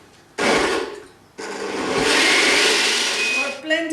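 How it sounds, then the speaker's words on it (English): A blender whirs loudly as it purées creamy chicken soup ingredients, including cooked chicken, in two sustained bursts separated by a short pause, with a voice speaking faintly underneath. "I'm going to now blend all these ingredients together."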